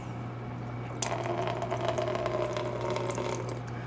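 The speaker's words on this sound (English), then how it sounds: "start pouring out the water back into this pitcher to empty it out for the first cycle" Water pours from a filter unit back into a pitcher, a steady trickling splash that starts abruptly and runs continuously under a low constant hum.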